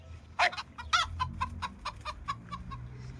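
Chickens cluck in a farmer's crop field, giving a series of sharp, fairly close clucks in an uneven rhythm, a couple of louder squawks early on, then softer repeated calls over a quiet outdoor background.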